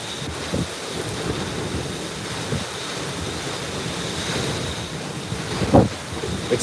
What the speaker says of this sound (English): I've got just a massive zero visibility, super heavy rain.